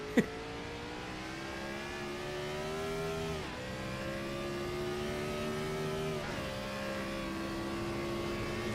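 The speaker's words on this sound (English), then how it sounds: "Really get those RPMs revved up there going down that straightaway" Race car engine in a sim racing video game, droning steadily down a straightaway and climbing through the revs, with two quick gear shifts dropping the pitch, fairly faint and alone.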